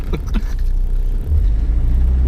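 A Classic Mini's engine revs hard with too much throttle in first gear, a loud, close rumbling drone that swells and holds steady with no talk over it.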